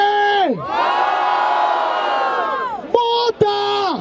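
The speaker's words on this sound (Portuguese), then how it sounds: "Vamos lá! Barulho para as rimas do Kate!" A crowd at a Batalha da Aldeia rap battle in Barueri roars and whoops loudly for about two and a half seconds, followed by a shouting voice and a brief second burst of cheering.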